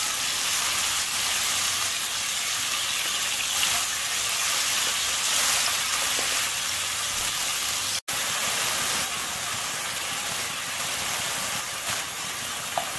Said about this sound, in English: And saute it until it's golden brown.